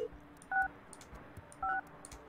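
Two short electronic phone-dialing tone bursts, about a second apart, while phone lines are installed in the building sim Project Highrise, over a soft busy game background.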